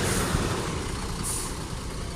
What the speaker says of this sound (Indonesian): ini ada masuk bus Intra ya dari Siantar, masuk jam 9:10